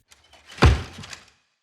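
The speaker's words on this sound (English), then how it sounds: "ran to the door, and slammed it shut" A camp cabin door slammed shut at night: one heavy, close thud that booms and fades within about half a second, with faint shuffling before it.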